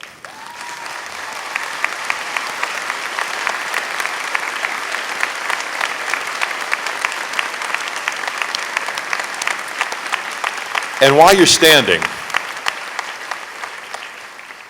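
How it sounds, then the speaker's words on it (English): Graduates at a 2016 commencement ceremony applaud the faculty and staff seated behind them. Sustained, crowd-wide clapping rolls on at an even level, then a single voice starts speaking over it near the end. "give this dedicated group of people a round of applause"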